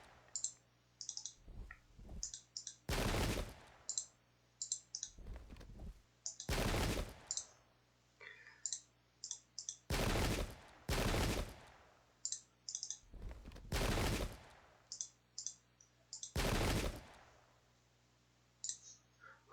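Musket volleys in the video game Pike and Shot, a 1643 battle at Adwalton Moor, sounding as several loud crackling bursts of massed gunfire spaced a few seconds apart, with faint clicking between them.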